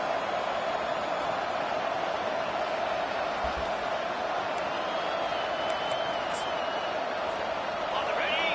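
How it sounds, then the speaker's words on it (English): A dense, steady roar of a large stadium crowd at a UGA vs. NC State football game fills the space, constant and loud throughout, with faint whistles rising above it. "This crowd bringing the energy and noise early."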